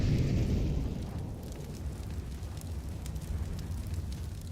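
A Molotov fire burning in CS:GO, a loud roaring whoosh at first that settles into a steady crackling burn.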